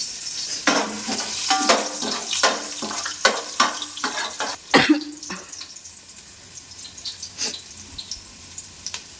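Onion frying in a pan sizzles while a spoon stirs it, making scraping and clattering sounds, with a brief cough partway through and a faint kitchen background.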